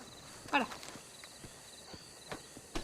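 A horse walking through a town in a video game gives sparse, faint hoof clops, with one louder hit near the start and scattered lighter steps after, against a quiet ambient background.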